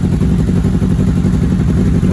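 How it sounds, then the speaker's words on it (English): A 1982 Honda CB900F motorcycle engine runs close and loud with a steady, rapid mechanical clatter and a low throbbing pulse, without a clear rev change. No one talks. "It's still snapping and popping a little bit on the throttle"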